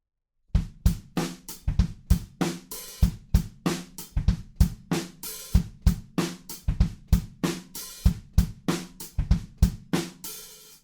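A steady rock drum groove from a song's chorus, played alone: kick and snare alternate with cymbals washing over each hit, a regular driving pulse throughout.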